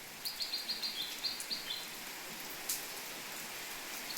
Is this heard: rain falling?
yes